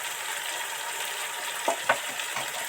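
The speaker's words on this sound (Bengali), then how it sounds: "বন্ধুরা এবার সুন্দর করে নেড়ে চেড়ে মিশিয়ে দেবো।" Spices with turmeric and chilli sizzle steadily in a hot pan for a Bengali shukto, with a few soft scraping stirs of a spatula cutting through the constant frying hiss.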